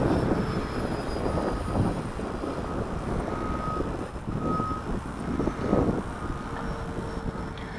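A Freewing Rebel V2 RC airplane flying in high winds at about two-thirds throttle, its motor a steady distant whine with faint tonal hums, buried under heavy, continuous wind rumble and buffeting.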